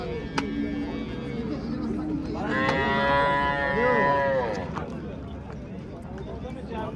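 An old cow at the Kitob cattle market lets out one long, loud moo in the middle, standing out over steady crowd chatter and market noise.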